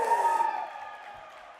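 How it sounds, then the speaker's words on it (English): Cheering and applause from a concert audience after a band's performance at Crystal Bridges, loud at first and then thinning and fading over a second or so. "another big round of applause for our band tonight"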